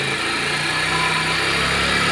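A Honda Dio scooter engine runs at a steady idle, its small-engine buzz continuous and close throughout with no change in pace.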